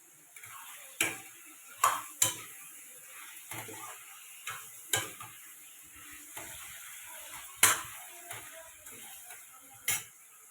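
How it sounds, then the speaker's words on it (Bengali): Spices sizzle and fry in a pan as cumin powder goes in, a steady soft hiss punctuated by sharp clicking taps of a spoon against the pan at irregular intervals, close and fairly quiet. "এর মধ্যে ভেজে দেখো জিরের গুঁড়ো দিচ্ছি"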